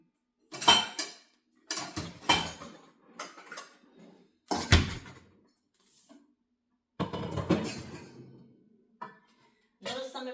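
Dog bowls are set out on a hard surface, making several separate clattering clinks and knocks in irregular bursts with short quiet gaps between them, close and moderately loud.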